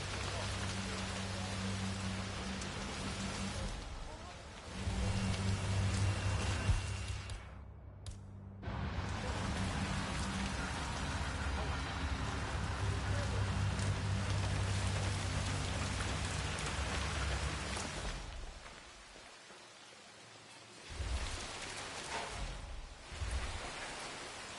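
Heavy rain in the Hitman video game pours as a steady dense hiss, with brief dropouts and a low rumble beneath, and no clear talk over it.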